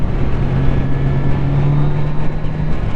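A Kawasaki Z900 RS motorcycle engine drones steadily while riding, a low continuous hum with a faint tonal line, mixed with constant wind rush at the microphone and no speech.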